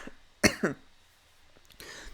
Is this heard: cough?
yes